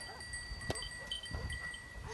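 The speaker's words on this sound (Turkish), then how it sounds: "Bu keçilerin cinsi ne? Halep." A herd of Halep breed goats outdoors gives a few soft rustles and knocks with possible bell clinks, faint and brief, with a hint of voices in the background.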